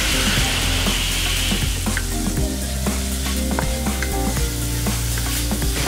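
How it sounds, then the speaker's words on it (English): Pork mince with Sichuan peppercorns sizzles steadily and loudly in a pan, with scattered scrapes and clicks of stirring breaking through the constant frying hiss. "Now when that pork is almost cooked, I'm going to add in my Sichuan peppercorns."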